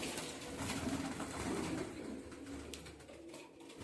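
Low flyer pigeons in a large Maharashtra loft, including red, khaki and Madrasi hens, coo softly and steadily amid a dense, murky background of rustling and other birds.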